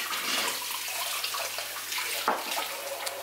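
Running tap water pours steadily over a peeled onion being washed, a continuous close hiss and splash with a brief knock partway through.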